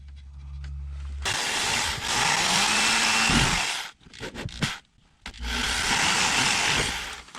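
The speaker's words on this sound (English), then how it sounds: "exactly where I need to drill the holes." Loud whirring bursts of a power drill boring holes during a Kicker PT250 installation, three long runs separated by brief pauses and short stutters.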